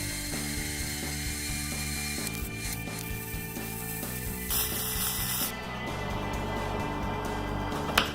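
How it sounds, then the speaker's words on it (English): Welding on a steel brake drum for a homemade forge: a steady, loud buzzing crackle with a constant hum that runs unbroken throughout, with small shifts in tone partway through. "Time for some more welding."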